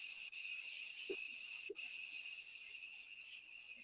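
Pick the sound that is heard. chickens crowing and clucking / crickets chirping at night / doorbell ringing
crickets chirping at night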